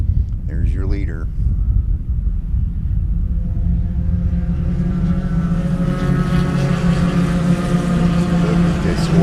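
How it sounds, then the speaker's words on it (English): A pack of Spec Racer Ford race cars builds from low rumble into a loud, rising multi-engine roar as they pass on the Sebring front straightaway, with a brief tonal sweep near the start. "Look at this horde of cars, man."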